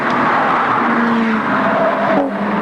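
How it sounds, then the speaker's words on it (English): Group E production racing cars on radial tyres at Amaroo circuit in 1983, a loud close engine drone with tonal tyre howl rising and sliding as the cars pass, no talk. "Just listen to the howl of the tyres, all of them running on radial tyres."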